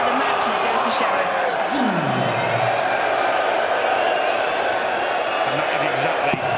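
A darts crowd cheers and roars after Fallon Sherrock's 180 in her match against Ted Evetts, a broad, sustained swell of noise from a big audience with a commentator talking over it.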